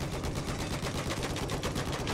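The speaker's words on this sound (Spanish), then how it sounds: "Estoy disparando." Rapid automatic gunfire in the Battlefield 4 video game, a dense, continuous rattle of shots at steady volume with no pauses.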